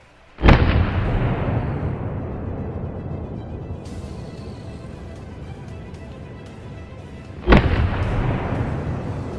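Two loud rifle shots during a driven wild boar hunt, one at the start and another about seven seconds later, each a sharp blast followed by a long rolling echo that fades slowly across the woods.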